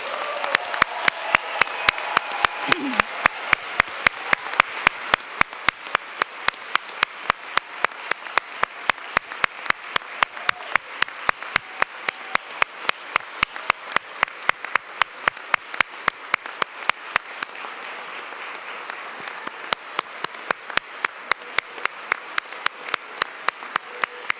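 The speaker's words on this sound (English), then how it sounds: "Would the class of 2025 please rise to receive our heartfelt congratulations and a hearty round of applause" Audience applause fills a ceremony hall for the Geisel class of 2025 at their white coat ceremony, steady sustained clapping from a large crowd with no voices on top, holding for the full stretch.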